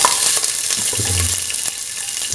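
Onions, garlic, shallots and ginger hit hot oil in a pan and sizzle loudly up close. A few soft stirring knocks sound under the steady crackle.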